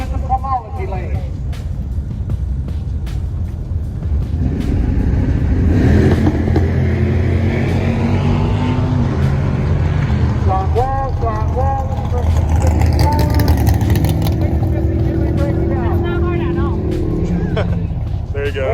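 Chevrolet Corvette C6 Z06 on drag radials at Verona Drag Strip, its engine rumbling steadily nearby with rising revs and passing vehicle noise, mixed under ongoing talk.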